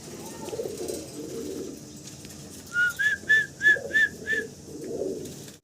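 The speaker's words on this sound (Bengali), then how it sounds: "ভিডিও স্ক্রিনে আমি সিঙ্গেল আরও 1 পিস কবুতর দেখাচ্ছি" Fancy pigeons coo in soft, low rolling bursts, joined midway by a run of six short, clear, evenly spaced whistle-like notes, close and moderately loud.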